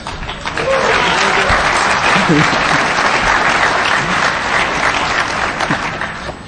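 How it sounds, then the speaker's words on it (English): Loud, dense applause from the audience at a DEF CON hacking conference presentation, sustained for several seconds with faint voices underneath. "somebody give this man a round of applause"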